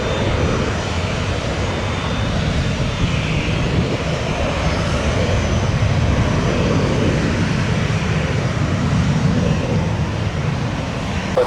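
A jet aircraft roars at an airport during windy, rainy weather, a broad, steady rumbling engine noise that stays loud and constant without any talk.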